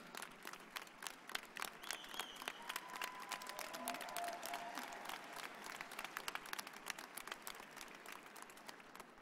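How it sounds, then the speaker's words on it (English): Faint, distant applause from a standing audience at a nursing college convocation, steady dense clapping with scattered sharper claps throughout, heard from far back in a large hall. "That's why we're all standing and clapping for her."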